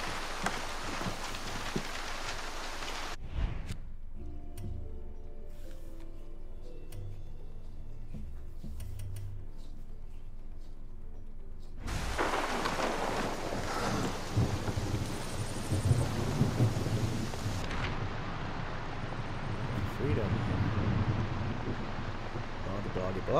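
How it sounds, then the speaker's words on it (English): Steady rain hisses with low thunder rumbling in the video game Far Cry 6, broken partway through by a quieter stretch of soft tones before the downpour returns. "A bit of rain now."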